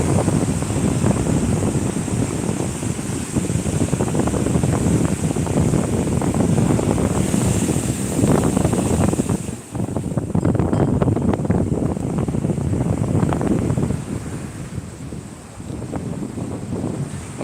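Waves break and surge along Shankarpur beach in a sustained roar, with swelling crashes around the middle, a brief dip, then more rushing surf that eases toward the end, wind rumbling across the microphone throughout.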